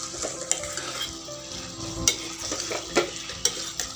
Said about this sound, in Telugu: ఇప్పుడు ఇది మళ్ళీ కలిదిప్పుదాం శుభ్రంగా